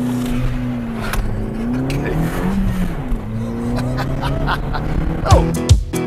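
Suzuki Swift Sport Hybrid 1.4 Boosterjet with a limited-slip differential accelerating hard in first gear on the road, engine note climbing steadily, with speech over it and a short exclamation near the end.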